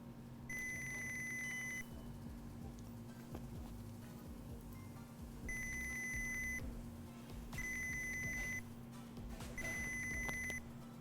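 Arduino-driven piezoelectric buzzer sounding four bursts of rapid high-pitched beeping, each lasting about a second with roughly two-second gaps, loud and close over a steady low electrical hum, with no talking.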